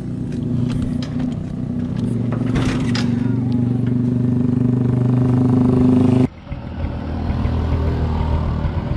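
A Bajaj CT 125 motorcycle fitted with a Honda CDI runs close by, its engine buzzing steadily with some revving for about six seconds before cutting to a quieter idle.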